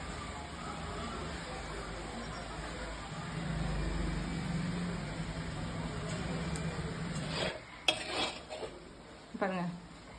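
Moringa leaves stirred into egg in a kadai: a low sizzle gives way to a few sharp metallic scrapes and clatters of the spatula against the pan, close by.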